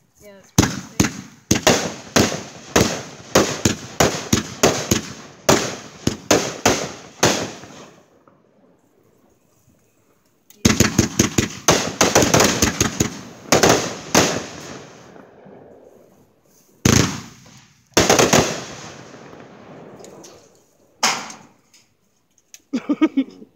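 Fourth of July fireworks go off close by as a fast volley of sharp, loud bursts, followed after a short pause by a second rapid volley and then a few scattered, heavier bangs with quiet gaps between them.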